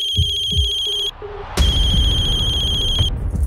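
A telephone rings with a repeating electronic trill, two bursts separated by a short gap, loud and close over faint background murmur and low thumps.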